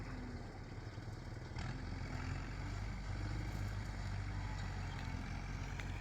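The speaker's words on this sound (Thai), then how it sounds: "รถไถมาทำ" A tractor works at a Thai garden, bringing in fill soil, its engine a steady low rumble with faint clatter, moderately distant and continuous, with no talking.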